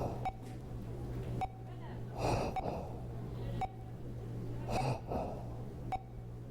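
Weak, labored breathing of a character in The Hospital horror game, slow strained gasps recurring every couple of seconds over a low steady hum and occasional beeps.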